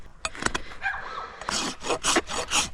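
A rasp files the hoof sole of a mini pony with laminitis, a series of close, gritty scraping strokes, a few spaced early on, then quicker repeated passes, with no talk.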